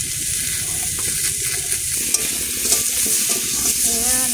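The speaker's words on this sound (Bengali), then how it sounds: "নাড়াচাড়া করবো," Turmeric and spices frying in a pan while being stirred, a continuous close sizzle with scraping stir strokes throughout and no talking.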